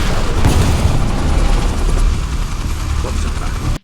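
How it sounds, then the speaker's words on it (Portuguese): A big explosion in the animated film Teenage Mutant Ninja Turtles: Mutant Mayhem, a loud, deep, rumbling boom that sustains for several seconds before cutting off abruptly. "A Mosca Mutante protege o seu pai, mas isso resulta numa grande explosão"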